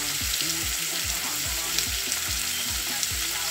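Food browning in a hot pan, stirred now and then as it fries over moderate heat; a steady close sizzle runs throughout with soft rhythmic scraping strokes repeating underneath.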